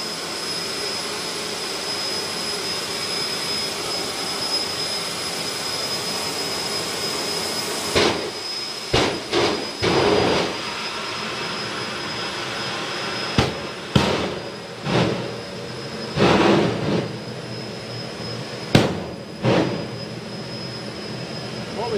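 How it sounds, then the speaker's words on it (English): A jet engine winding up at an outdoor event roars in a loud steady whine, then sharp afterburner pops burst out repeatedly in irregular clusters over the continuous drone. "Right, going to wind the jet up even more now."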